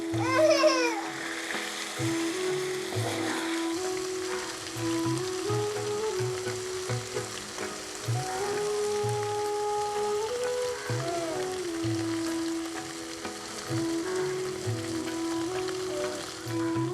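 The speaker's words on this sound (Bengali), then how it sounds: "এই যে আমার এগুলো ভাজা হচ্ছে, সব উল্টে পাল্টে দিয়েছি" Paneer cubes sizzle steadily in a pan for a hariyali paneer dish, a continuous close crackle, while a voice and background speech come and go over it.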